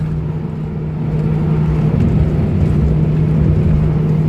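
Toyota Hilux 4x4 pickup with a swapped-in Lexus 3UZ-FE 4.3 V8 accelerating away, giving a steady, deep engine drone that builds slightly and then holds, close and loud, with no talking.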